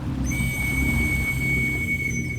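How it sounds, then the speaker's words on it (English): A single shrill, steady plastic whistle blast begins almost at once and is held unbroken to the end, over a low rumbling background. "there was a plastic whistle attached to it. I pulled it free and began blowing it in answer"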